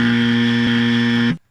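A loud, harsh buzzer sounds a single sustained tone for a wrong answer in a sports-radio quiz segment, then cuts off abruptly.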